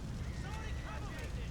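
A grenade blast in Grand Theft Auto IV: a broad, rumbling roar fills the whole moment, steady and heavy, with a low boom lingering under faint noise.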